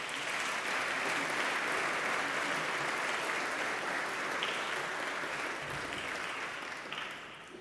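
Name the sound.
dinner audience applause for faculty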